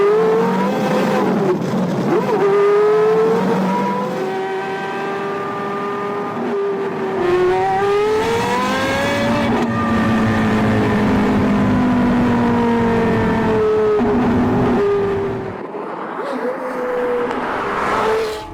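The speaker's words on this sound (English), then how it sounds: "The Porsche Carrera GT." A Porsche Carrera GT V10 revs loud and close, its pitch sweeping up and down through repeated rises and falls that sustain for most of the span before dropping away.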